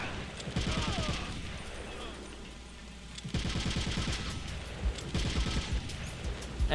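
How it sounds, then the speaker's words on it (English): Rapid gunfire from the video game Metal Gear Solid: The Twin Snakes, dense bursts of close shots in two loud clusters with a brief lull between, under a busy game soundscape. "I'm just gonna start shooting them all willy-nilly"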